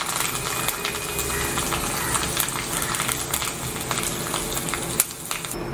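Red chillies and curry leaves fry in hot oil as a tempering for pumpkin mor kulambu, making a steady close sizzle with crackling pops and one sharp spit near the end.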